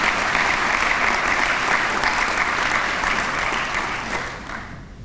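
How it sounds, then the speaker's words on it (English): A university convocation audience gives a full round of applause, dense and sustained at first and then gradually thinning and fading toward the end, with no talking on top. "Would you give our development folks a round of applause for the work that they've done?"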